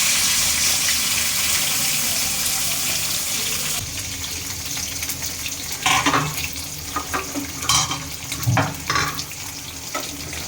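Greens and potatoes frying in a pan: a loud, continuous hissing sizzle for several seconds, then quieter frying with a series of stirring scrapes and clatters close by.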